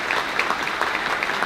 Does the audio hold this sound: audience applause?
yes